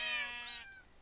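A video game cat meows once, a clear, close, drawn-out cry that rises and then fades, with no other sound alongside.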